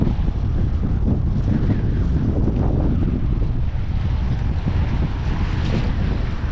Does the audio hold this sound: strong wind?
yes